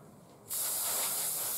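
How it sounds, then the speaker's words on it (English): Aerosol spray paint hissing onto small Halo Fleet Battles starship miniatures, a steady close, loud hiss starting abruptly after a brief quiet moment and continuing without a break. "Here I can just spray a full layer"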